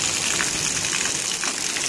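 Rainwater pours through a leaking roof into a shed storing straw, a dense, steady hiss of splashing water without pause and no voices.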